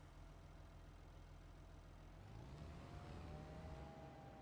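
Tractor engine in a farming video game, a steady low rumbling drone that rises slightly in pitch partway through as if revving, faint and continuous with no talking.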